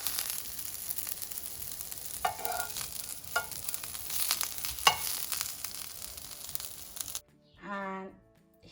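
Foraged food frying in a little oil in a pan, a constant close hiss and crackle with a few sharper pops, then a short spoken voice once the sizzle stops.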